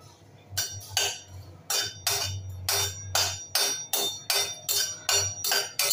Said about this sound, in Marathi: आता आपण बडीशेप भाजून घेऊया।